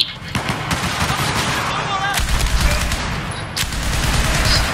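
Rapid, continuous automatic fire from a QJY-88 light machine gun in the video game Battlefield 4, a dense, loud rattle of shots running nearly the whole time, with a voice talking over it.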